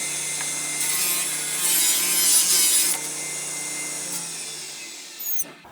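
Table saw ripping a wooden board held against the fence, a loud continuous whining cut that swells midway, then eases as the blade runs on and winds down.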